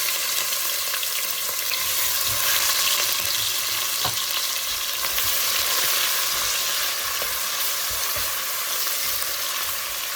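Crushed ginger, garlic and green chili frying in hot oil for a Kerala-style duck roast, a loud continuous sizzle with stirring scrapes, close and steady without speech.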